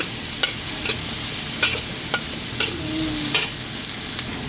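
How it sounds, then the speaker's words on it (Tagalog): Tomatoes sauté in a hot pan with a constant oily sizzle, broken by light taps and scrapes of the spoon as they are stirred. "Ayun guys, nasangkotsa na yung kamatis."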